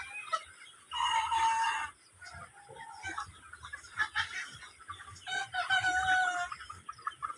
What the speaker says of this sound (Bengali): এই যে এখানে আছে অনেকগুলো মুরগি